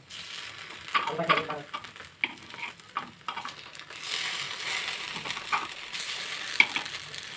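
Paddu batter cooking in a paddu pan, sizzling and frying steadily while the dumplings are turned, with scattered scraping clicks and light metallic taps over a continuous hiss.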